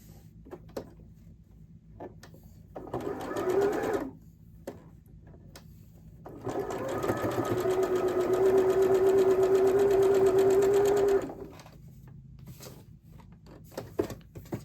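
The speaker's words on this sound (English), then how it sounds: "we'll chain stitch it right behind it" A sewing machine chain stitches quilt blocks in two runs, a short burst and then a longer, steady whirring run of about five seconds, with soft clicks and fabric handling around them.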